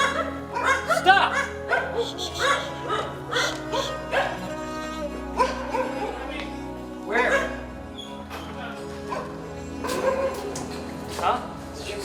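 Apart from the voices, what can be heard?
dogs barking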